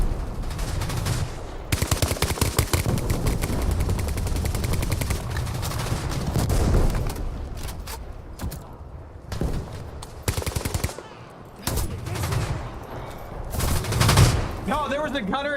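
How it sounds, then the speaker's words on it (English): Heavy machine gun fire in a War Thunder tank battle, likely a .50 calibre, with long dense bursts and rapid rattling volleys running almost continuously, broken by a few short pauses, loud and close alongside other combat noise. "It sounds like a freaking 50 cal."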